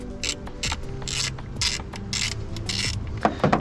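Quick bursts of a 10 mm ratchet clicking as it backs out an ignition coil bolt on a Nissan 350z, several short rapid ratcheting runs with brief pauses between, close and clear.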